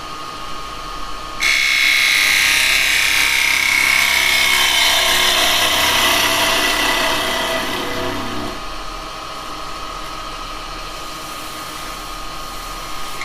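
A lathe with a chisel cutting wood spun on it during indoor woodturning. A loud, continuous rasping cut kicks in suddenly, holds for several seconds, then drops to the quieter whir of the spinning lathe, with no talking.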